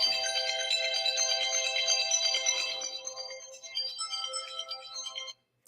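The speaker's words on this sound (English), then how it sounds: "Now my phone is ringing." A mobile phone plays a melodic ringtone, close and steady, with the tune repeating before it fades and stops abruptly.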